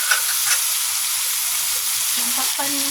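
Dalag fish sautéing in a pan, a dense, continuous hiss of hot oil sizzling up close and loud, with a faint tonal hum near the end.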